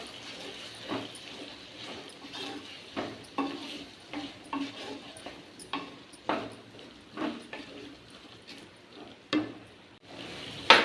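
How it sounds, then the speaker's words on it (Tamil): Fish curry masala with chilli powder and turmeric being stirred in a pan, a series of soft scraping and tapping strokes against the metal, moderately close, with a faint sizzle underneath and no talking. "இப்போ எல்லாத்தையும் நல்லா கிளறி விடலாம்"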